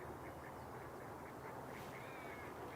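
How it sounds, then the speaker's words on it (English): A pair of wood ducks quack close by, their calls running steadily together over a soft, constant outdoor hiss. "this pair of wood ducks really close here"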